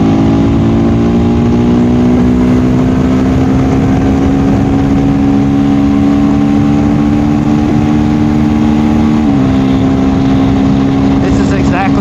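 Single-cylinder KTM Duke 390 motorcycle engine pulling steadily on a back road, a loud continuous drone with a slight pitch rise and a brief dip near the end, constant wind rush underneath.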